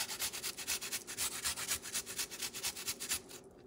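Garlic is rubbed back and forth over meat for ropa vieja, a close, quiet, rhythmic scraping of quick repeated strokes that stops just before the end.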